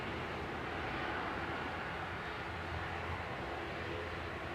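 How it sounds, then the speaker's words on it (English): Steady, broadband roar of a Ryanair plane from Katowice, operated by Buzz, landing at Manchester Airport, heard from a distance as an even, sustained rumble with no voices. "That was Ryanair landed in the back row, coming in from Katowice."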